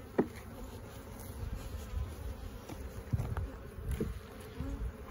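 Honeybees buzz densely around a large, busy hive, a continuous low droning swarm with occasional faint knocks and taps as the frames are handled.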